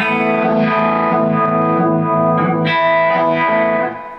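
Electric guitar through a Strymon Ultra Violet vibe pedal set to maximum intensity, a loud, sustained distorted passage with strong phaser-like sweeping modulation throughout, fading out at the end.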